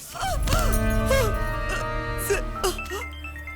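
A phone ringing in a Hindi-dubbed horror movie, a bright repeating electronic ringtone with chiming tones that sounds steadily and fairly loud for several seconds, mixed with film sound.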